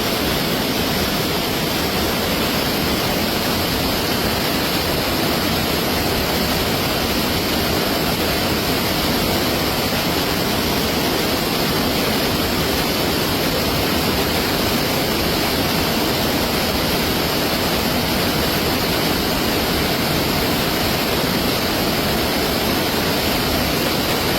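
Loud, continuous roar of rushing floodwater in the Iravinji river fills the whole stretch, a dense steady torrent with deep rumble beneath and no voices.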